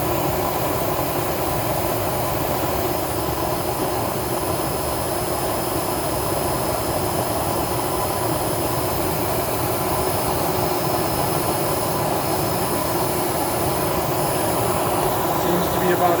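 A Eureka Optima 431BX vacuum cleaner runs continuously during an airflow test, producing a loud, steady, broadband motor roar and rushing air that holds unchanged throughout.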